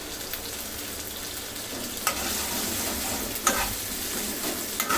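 Ground spice paste frying in a pan for a koi fish curry gives a steady close sizzle, broken by a few brief louder stirring scrapes and spatters, with no talking.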